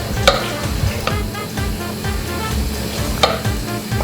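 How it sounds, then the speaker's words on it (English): Butter melting in a hot pan, a steady close sizzle with occasional sharp clicks of a utensil against the pan and a low rumble underneath, no voices. "we're gonna just melt the butter"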